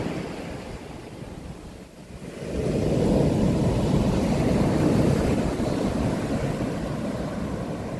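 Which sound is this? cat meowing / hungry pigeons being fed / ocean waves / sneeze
ocean waves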